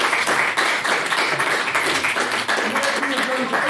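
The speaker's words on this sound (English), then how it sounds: "can we have another round of applause for all the excellent speakers tonight" A room full of people at an evening debate applauds steadily for the speakers, a dense, even wash of clapping that holds without a break.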